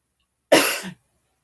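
A single short cough from one person, close and fairly loud, lasting about half a second with a rough throaty tail, then silence.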